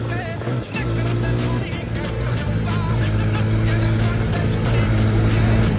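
A TVS Apache 160 4V motorcycle engine drones steadily during a ride on a Ladakh trip. It is a loud, close, continuous hum with strong tonal harmonics that rise and fall slightly with the throttle.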